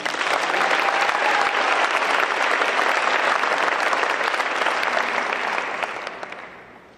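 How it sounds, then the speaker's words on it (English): Steady applause rings out for a wrestler at a high school signing day, a dense crowd clapping loudly for several seconds before fading away. "Let's give a round of applause for Reese."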